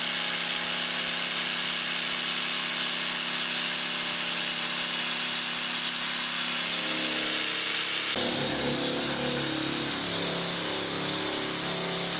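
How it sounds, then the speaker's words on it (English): A dual-action sander with 80-grit paper works body filler on a hood during rust repair on a 1984 Scottsdale, giving a steady, close, unbroken whir that shifts to a rougher, lower tone about two-thirds through. "I sand it with a DA with 80 grit"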